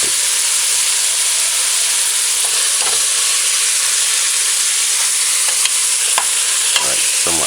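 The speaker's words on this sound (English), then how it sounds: "fry it for 1 or 2 minutes on one side" Beef for a pot roast frying in a pan, a loud, steady sizzle and hiss running the whole way through, with a few brief clinks and stirring scrapes close by.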